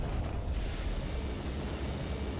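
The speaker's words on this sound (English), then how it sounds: "They're launching a missile." A missile explosion in a Skibidi Toilet animation: a dense, low rumbling blast that rolls on steadily without a break, and no one speaks.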